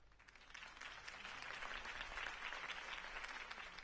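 Crowd applause after Harvey Dent's campaign speech in the Batman Telltale game, a dense, continuous clapping that swells slightly and holds steady throughout, with no talk over it.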